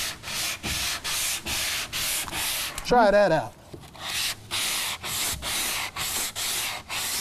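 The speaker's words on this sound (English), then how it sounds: "I've already sanded more in the two strokes than I was sanding in 20 a while ago" Repeated rhythmic sanding strokes of a Würth flexible sanding pad on a car hood, a steady rasping scrape about every half second, with a brief spoken remark in the middle.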